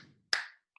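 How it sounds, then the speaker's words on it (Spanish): A single sharp hand clap stands alone after a faint murmur, bright and close, followed by a brief decaying tail and a tiny click at the end, given as an example of contraction intensity during childbirth. "o puedo dar este aplauso"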